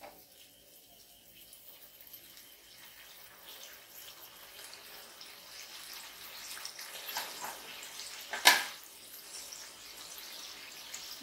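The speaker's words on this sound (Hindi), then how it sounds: "दो तीन मिनट पकाने के बाद उसमें हम जौ का पानी मिलाएंगे" Barley water poured into a pan of mustard potato curry, heard as a quiet, continuous running pour of liquid that builds gradually with a brief sharp splash near the end.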